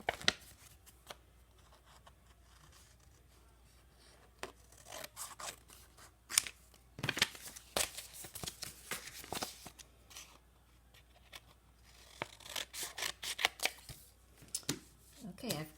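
Scissors snip repeatedly through folded paper being cut into a trapezoid shape, close and fairly quiet, in irregular bursts of short crisp cuts and rustles with pauses between.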